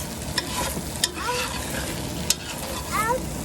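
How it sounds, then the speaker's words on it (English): Rice being stirred in a pan for a chicken and rice casserole, a steady scraping and clatter with a faint sizzle underneath and a few sharper utensil knocks against the pan. "I just am stirring it so it doesn't stick too much to the bottom of the pan"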